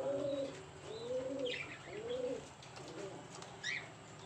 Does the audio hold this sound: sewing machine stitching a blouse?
no